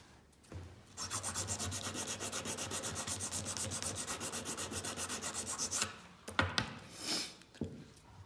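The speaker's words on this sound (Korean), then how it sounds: "이런 방법으로 볼펜에다 사포를 말아서 가는 방법으로 어느 정도까지는 갈아주세요" Sandpaper rolled around a ballpoint pen rasps inside a handmade wooden ring, a steady rapid back-and-forth scrubbing that runs about five seconds, then a few shorter separate rubs close by.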